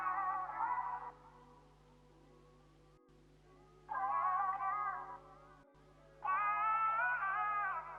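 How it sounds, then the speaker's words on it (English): Three short bursts of chopped, pitched vocal snippets, bright and processed, separated by pauses over a low steady hum. "I just did some chops of the vocals that sound like this."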